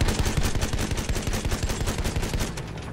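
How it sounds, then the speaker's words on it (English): Heavy sustained fire in Battlefield 1 as a tank shoots at an airship: a dense, loud stream of rapid gunshots through the whole clip, with no talk over it. "I'm hitting the airship with the tank"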